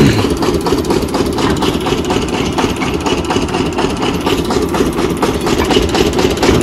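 A running engine at a brick kiln drones loud and steady, a close, low, throbbing idle with an even pulse that holds unchanged from start to end.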